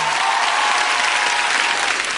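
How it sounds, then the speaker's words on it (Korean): Studio audience applause on a Korean music talk show, loud dense clapping sustained throughout without a break. "박수 주세요."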